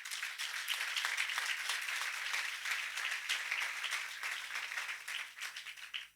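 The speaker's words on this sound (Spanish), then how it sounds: "Dale un aplauso a Jesús." Clapping from a church congregation fills the space, a sustained crowd of hands heard at some distance, fairly even before thinning and fading at the close.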